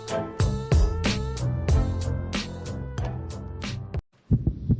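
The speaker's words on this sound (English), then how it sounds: "This is the sound of a racing heart." A young child's racing heartbeat, thumping fast and loud in a steady quick rhythm, cutting off briefly near the end before the beats resume.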